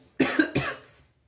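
A close, loud cough of two quick bursts, followed by quiet.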